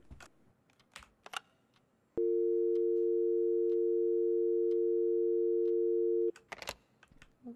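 A steady telephone dial tone from a phone in a horror game set in a house, one continuous hum lasting about four seconds, bracketed by clicks and soft handling noises before and after.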